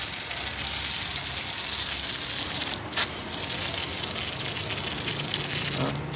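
Handheld snow foam car wash bottle with a pressure-charge valve sprays foam in a steady, continuous hiss close by, broken by two brief pauses, with no talk over it.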